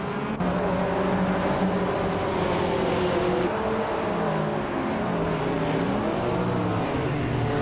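A classic 1987 BMW 325 IA30 Touring races at the start of a video game race with other cars, its steady engine drone changing pitch as it accelerates and shifts, loud and continuous throughout.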